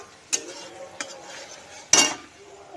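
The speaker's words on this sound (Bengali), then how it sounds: "এই যে দেখো আমি মশলাটাকে কষিয়ে নিচ্ছি।" A spoon stirs and scrapes spice paste being sautéed in a pan, with three sharp utensil clanks against the metal over a low sizzle.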